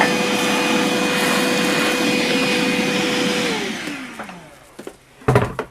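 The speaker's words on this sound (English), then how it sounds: "it becomes necessary to maybe use a shop vac" A shop vac sucks up drill press chips with a loud, steady roar, then its motor spins down with a falling whine, ending in a few close knocks and clatters.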